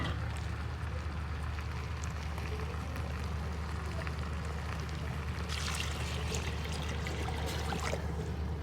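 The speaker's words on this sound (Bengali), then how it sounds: "কিছুক্ষণ কষিয়ে নেওয়ার পরে এখন পানি দিয়ে দিলাম।" Water poured into a cooking pot partway through making biryani, a steady watery rush that holds at a constant level and brightens near the end, with no talking over it.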